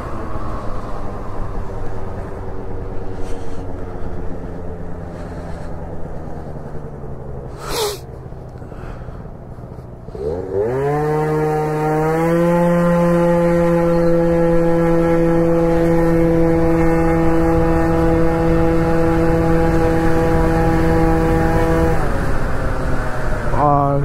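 A small 50cc scooter engine revs up loudly and holds a high, steady whine, with rising harmonic tones as it accelerates, close and continuous.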